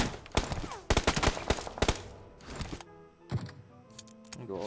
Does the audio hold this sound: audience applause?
no